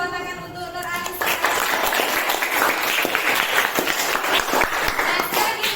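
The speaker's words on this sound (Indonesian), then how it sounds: "tepuk tangan untuk Nur Anissa" Applause from a classroom group for a student who answered a question, steady clapping that begins after a second and continues evenly to the end, with a few voices underneath.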